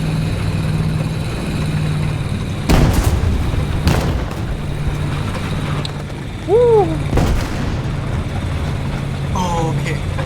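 An AMX 13 tank gun fires in War Thunder: several sharp, loud booming shots spaced a few seconds apart over a low engine rumble, with voices talking in between.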